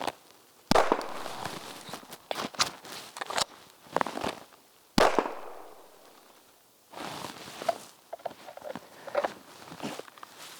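Pistol emergency reload from slide lock, a slam-fed magazine and the slide closing, with sharp metallic clacks and snaps spread across the clip, close and loud between softer handling noises.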